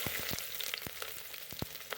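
White onions dropped into hot oil crackle and pop with sharp, irregular bursts over a steady close sizzle.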